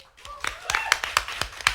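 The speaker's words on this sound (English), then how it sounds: "can we have a round of applause for Tommy?" Scattered hand claps from a small audience at a student union candidate question time event, a few distinct claps spaced across under two seconds, fairly faint and thin rather than a full round of applause.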